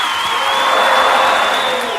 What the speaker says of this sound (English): Can we please have her on stage with a huge round of applause?